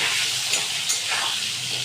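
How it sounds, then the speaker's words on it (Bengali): Diced potatoes and papaya fry in hot oil in a pan, giving a continuous, fairly loud sizzling hiss that stays even throughout, with no voices. "দিয়ে দেবো ডুমো করে কেটে রাখা আলু আর পেঁপে। এগুলোকেও লাল করে ভালো করে হালকা ব্রাউন করে ভেজে নেবো।"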